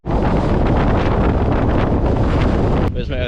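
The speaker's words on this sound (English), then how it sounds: "Because it is really blustery." Strong gusting wind buffets the microphone on an exposed mountain summit above Loch Tay, a loud continuous roar that cuts briefly near the end.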